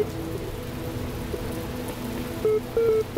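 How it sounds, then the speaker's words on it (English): Steady rain hisses across a level of The Talos Principle puzzle game, an even wash of falling water with a low hum underneath and a few faint tonal blips near the end. "What I colloquially refer to as the level of rain."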